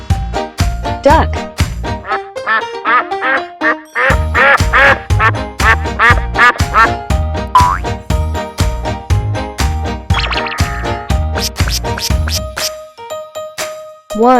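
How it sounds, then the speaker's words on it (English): A duck quacks repeatedly in quick, loud, close bursts, with jingling, tinkling tones mixed among the calls throughout. "Duck."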